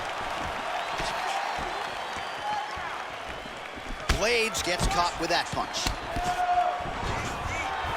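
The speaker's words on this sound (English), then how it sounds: "nice pop there from the crowd as he finally gets the takedown" Crowd noise from a UFC 4 video game heavyweight bout rises into a loud cheer partway through, with bursts of impacts and a commentator talking over the arena roar.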